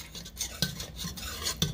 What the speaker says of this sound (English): So we're just whisking it until it's nice and smooth and combined.